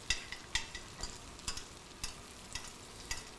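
Butter foaming in a pan as fish is basted, with a steady soft sizzle broken by regular spoon strokes about every half second, close and moderately quiet, no talk.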